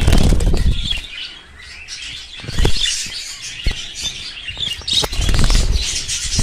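Budgerigars, including a lutino, flap their wings in a cage at a bird farm. The flurries of wing beats are loud and close, with brief chirps in between.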